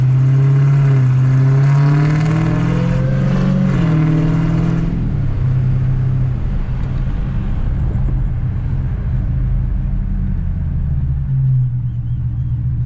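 A Dodge Hellcat on the road bedding in new R1 Concepts rotors, its engine droning loud and close as it pulls and then eases off during a soft stop, settling into a low rumble with no voices.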